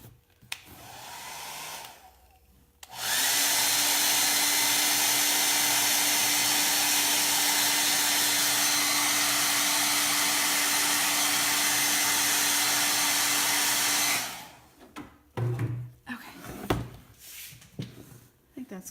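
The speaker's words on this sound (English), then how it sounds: "That hairdryer smells like burning." A hair dryer in a craft shop, giving off a burning smell, runs loud and steady for about eleven seconds with a constant whine, then switches off; brief clatter and light handling noises come before and after.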